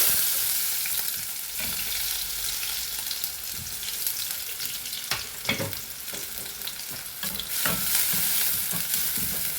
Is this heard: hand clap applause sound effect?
no